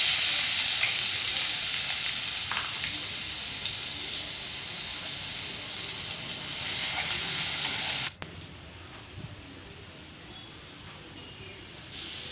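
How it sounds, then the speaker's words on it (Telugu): Sliced onion and chopped green chilli frying with cumin seeds in hot oil, a steady close hiss and crackle that runs unbroken before dropping suddenly to a quieter simmer near the end. "జీలకర్ర చిటపల్లాడాక దానికి 1 onion సన్నగా తరిగి, 1 పచ్చిమిర్చి తరుగు వేసి వేయించుకోవాలి"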